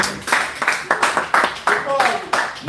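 Seminar audience clapping in slow, uneven bursts of separate hand claps, fairly close and loud, while a voice keeps talking over it.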